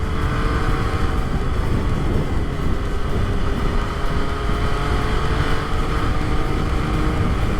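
A 2020 MV Agusta motorcycle engine drones steadily while riding, a continuous near roar mixed with wind rush, holding an even pitch throughout with no talk.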